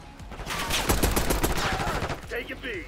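Rapid gunfire from the Black Ops 6 beta on the Babylon map, dense bursts of shots close and loud through the middle, with a player talking over the game audio.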